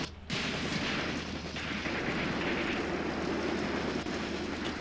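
Artillery barrage in the war game Graviteam Tactics: Mius Front: a sharp opening blast followed by a sustained heavy rumbling roar of distant shelling that continues steadily for several seconds.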